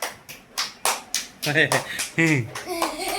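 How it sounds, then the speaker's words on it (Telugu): A handful of people clap in short, uneven bursts for a child who has just told a story about a T. rex, the claps landing close by and mixed in with chatter and a voice. "క్లాప్స్."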